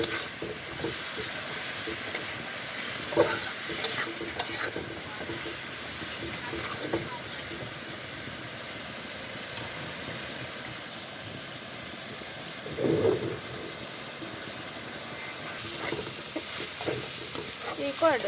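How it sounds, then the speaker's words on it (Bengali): Onions fry in a pan as the base for cooking chicken, a steady soft sizzle and hiss with occasional stirring scrapes, fairly quiet and continuous throughout. "এখানে হলো মুরগিটা মানে গোসটা রান্না করার জন্য পেঁয়াজ ভাজা দিতেছি"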